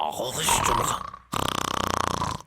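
A voice imitates a German snore with a long rasping inhale, a brief pause, then a buzzing, fluttering exhale, loud and close.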